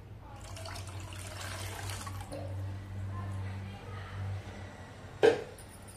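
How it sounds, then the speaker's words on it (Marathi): Hot water pours steadily into a pressure cooker while dal is being cooked, a continuous watery wash over a low kitchen hum, ending with a brief louder splash near the end. "कुकर धुवून आपण गरम पाणी घालून घेऊया."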